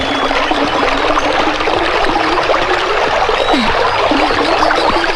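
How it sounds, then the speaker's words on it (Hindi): People wade barefoot across an icy river, the water rushing and splashing in a continuous close, loud stream with scattered sloshes and no talking. "नदी को पार जो करना पड़ेगा।"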